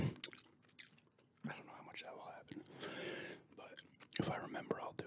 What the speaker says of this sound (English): I will start the video, then throw the gum in my mouth,